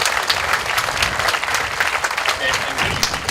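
Steady crowd applause fills the whole stretch, a dense wash of many hands clapping at a constant loud level.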